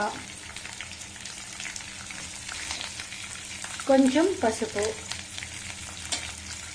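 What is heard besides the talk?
tempering frying with lentils, mustard seeds, curry leaves, chillies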